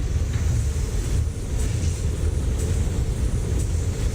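A steady, low mechanical rumble of a toy train rolling overhead in the video game Poppy Playtime, continuous and fairly loud throughout, with no voices.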